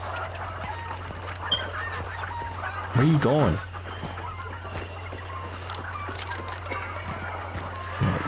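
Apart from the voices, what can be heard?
chickens clucking in a video game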